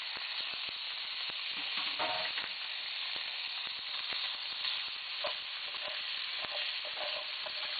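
Ground meat and red onions frying in a pot while being stirred, a steady close sizzle with repeated spoon scrapes and clicks against the pot, no voices.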